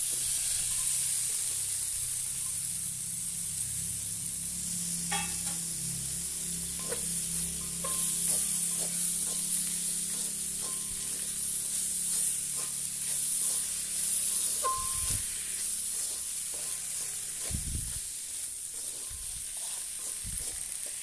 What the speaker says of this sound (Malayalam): മാറ്റി വെച്ചിരുന്ന കോവയ്ക്ക ചേർത്ത് കൊടുക്കാം